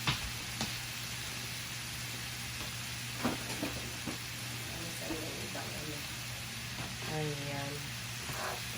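Lechon sautéing in a pan, a continuous close sizzle with scraping stirs and occasional spatula clinks, while someone talks intermittently over the frying.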